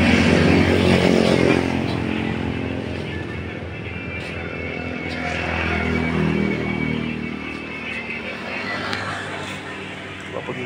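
A motorcycle engine running, a continuous rough rumble that swells and fades slightly over about ten seconds, fairly close, with a voice talking at times over it.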